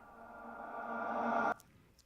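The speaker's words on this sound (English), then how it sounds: "I took the reverse reverb vocal again and put it in here." A reverse reverb vocal effect in a metal mix swells steadily louder for about a second and a half, then cuts off abruptly into near silence.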